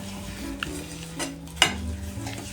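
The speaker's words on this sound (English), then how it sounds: "So I'm gonna stir it." A spoon stirs a cinnamon and apple mixture in a pan, with soft scraping, a few light clinks against the pan and a faint sizzle, close and quiet.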